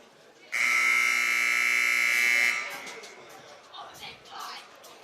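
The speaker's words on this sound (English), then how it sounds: "let's listen to this buzzer as time comes to an end at halftime" A loud, steady electronic buzzer blares for about two seconds at halftime of a high school boys' varsity basketball game, then cuts off, leaving crowd chatter and murmuring in a large room.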